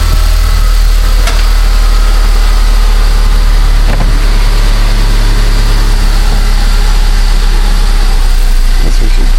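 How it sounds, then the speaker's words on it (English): A 2011 Buick Regal with the 2.0 turbo engine idles inside a garage, slightly high, giving a steady, even low rumble that holds continuously without revving. "Seems to be idling a little high, but it's starting to come down now."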